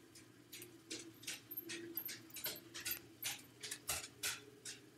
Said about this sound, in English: Dog's coming upstairs.